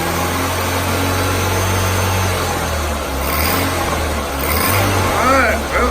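A 2002 Ford Focus SOHC engine that has just had a dropped valve seat repaired, running steadily at a low idle with a faint rise in revs, heard close up.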